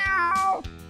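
A toy farm cat gives a single drawn-out meow, close and clear, falling in pitch, followed by a brief softer trailing sound.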